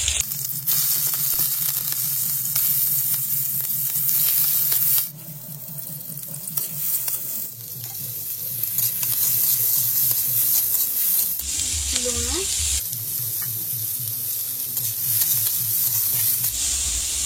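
Onion, potato, tomato, green chilli and garlic fry in a pan for egg fried rice, a loud steady sizzle with stirring scrapes running throughout, no talking.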